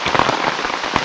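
Rain falls in a close, dense patter with a few sharper drop impacts standing out, loud and continuous over a single brief second.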